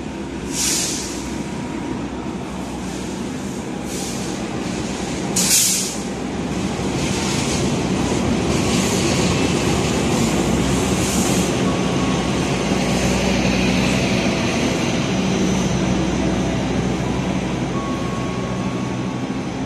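Argo Parahyangan passenger train rolling past on an Indonesian main line during the 2022 Mudik holiday season, a steady, loud rumble of wheels and carriages sustained throughout, with brief sharper bursts near the start.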